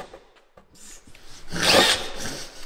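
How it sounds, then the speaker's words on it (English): A power drill bores into the rear doors of a van being converted, with a short whirring burst that grows louder near the middle, following some quieter rubbing and handling sounds. "time for more drilling"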